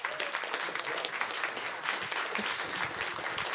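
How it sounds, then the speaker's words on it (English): Summit audience applauds the winners and placed finishers: continuous, fairly faint crowd clapping with a steady texture and no talk over it. "Give your winners and second to fifth places a round of applause."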